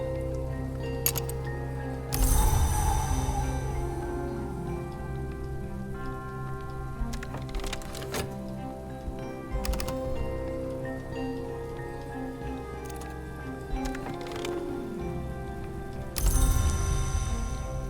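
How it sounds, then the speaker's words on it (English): Rain falling in the video game Book of Hours, a steady soft patter with occasional heavier gusts and clinking drips, heard alone without talk. "It's raining."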